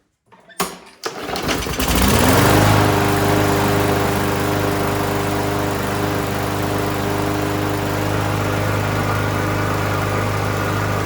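A Craftsman M100 lawn mower's small engine sputters through a couple of quick pulls, catches, and settles into a loud, steady, close-up running drone that holds without a break.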